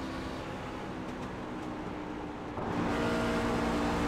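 Onboard engine of the number 12 racing truck in a video game race at Michigan, a steady droning roar at constant pitch that grows slightly louder partway through, with no talking.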